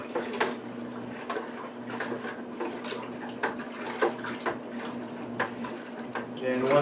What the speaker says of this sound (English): So once I get the water in here, I'll be right back.